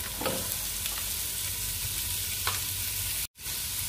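Chopped cabbage and carrot go into a pan of sautéed onions for a Kerala thoran, with a steady close sizzle and a few scraping stirs of a spoon, then a brief dropout near the end.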